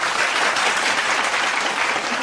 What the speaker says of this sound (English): a virtual applause.